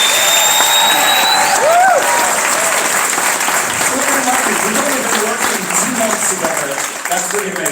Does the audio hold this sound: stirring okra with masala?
no